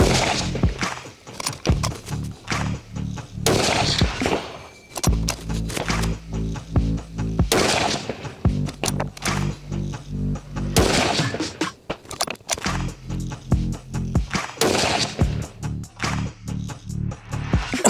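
Sharp, loud gunshot cracks from a CZ 600 MDT rifle firing Sako TRG Precision ammunition at 100 metres, five shots at irregular intervals with low rumbling echo between them.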